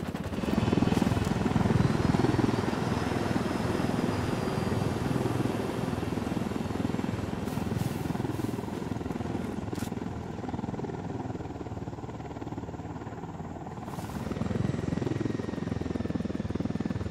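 Helicopter in the video game Ghost Recon Wildlands, a steady loud rotor and engine drone that fills the whole stretch with no letup.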